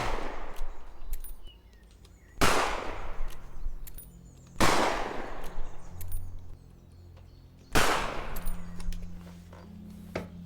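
Three sharp, loud gunshots from a quiet gun in the zombie game Cataclysm, spaced about two to three seconds apart, each with a bright crack and a decaying tail over low background rumble.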